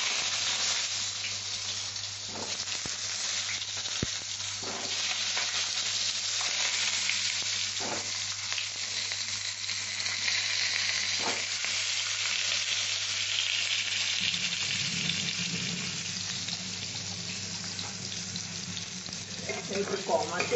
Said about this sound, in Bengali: তেল গরম হয়ে গেছে, আমি এবার পটলগুলোকে ফেলে দিচ্ছি